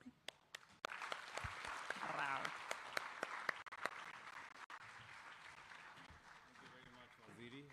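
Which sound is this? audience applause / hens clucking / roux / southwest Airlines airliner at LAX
audience applause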